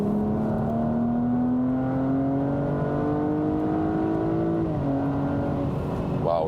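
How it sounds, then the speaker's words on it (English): A Porsche Cayenne S accelerates hard from 80, its engine note rising steadily and loudly as heard from inside the cabin, with a brief dip at a gear change. "Should give us good acceleration from 80 starting now."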